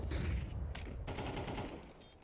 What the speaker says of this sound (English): Awaken now firing pot shots through the smoke